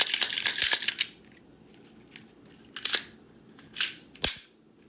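Springfield XD9 pistol being cleared, with a burst of rapid metallic clicks and rattles up front, then two or three sharp separate slide clacks and snaps after a quiet pause, close by with no talking.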